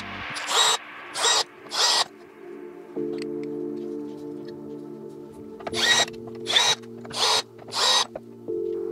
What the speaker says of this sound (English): we have four screws holding them on. So we're gonna take those off.